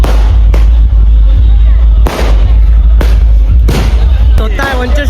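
Fireworks burst loudly at a village temple palanquin festival for the goddess Gavdevi in Vasar, with about four heavy, booming blasts spaced a second or so apart over a constant rumbling crowd din.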